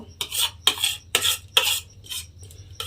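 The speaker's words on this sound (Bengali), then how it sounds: "এইবারে আমি এর মধ্যে দিয়ে দেব যে কুমড়োটা আমি এখানে গ্রেট করে রেখেছিলাম, সেই কুমড়োটা আমি এই ডিমের মধ্যে দিয়ে দেব" Grated pumpkin is mixed into beaten egg in a bowl with a spoon, giving four or five quick, close scraping and clinking strokes in an irregular rhythm, with no talking.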